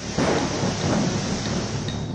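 Loud, continuous monsoon rain in North Bengal hisses and patters close by, with a deep rolling rumble of thunder blended into the downpour.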